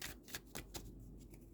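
Tarot cards slipping and snapping as they are drawn from a deck, a handful of quick, faint papery flicks close by in a quiet room.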